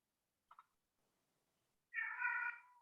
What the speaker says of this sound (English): you hear my kitty in the background